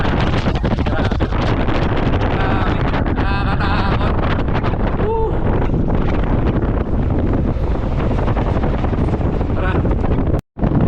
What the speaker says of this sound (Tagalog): Pero napakalakas ng hangin.